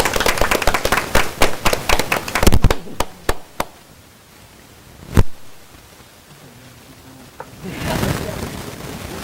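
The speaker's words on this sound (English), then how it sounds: "give yourself a round of applause" Applause and clapping at a village board meeting, a burst of sharp handclaps in the first few seconds thinning to scattered claps, then quiet room tone and a late swell of softer clapping.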